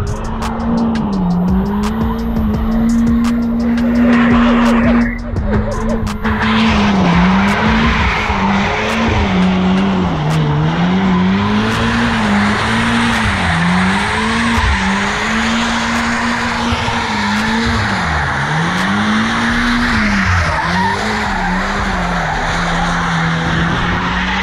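A boosted Nissan 350Z runs hard with its tires skidding. The engine holds a loud, continuous, wavering drone, with long squealing tire slides throughout and no talk over it.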